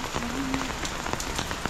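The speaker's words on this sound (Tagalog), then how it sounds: "Grabe, ang lakas ng ulan." Heavy rain pours steadily on a surface, a dense constant hiss with scattered louder drops throughout.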